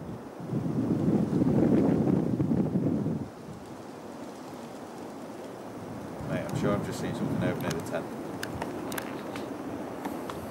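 A strong gust of evening wind buffets the microphone at Pengersick Castle in Cornwall, a loud, rough roar that drops off after a few seconds and leaves steady wind noise behind, with faint clicks and some muffled voices.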